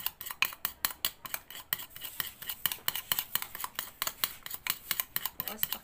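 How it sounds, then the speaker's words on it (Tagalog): A spoon stirs a Dalgona coffee mixture by hand in a cup, giving fast rhythmic scraping and clinking strokes, close and steady throughout. "Kutsara lang talagang halo natin."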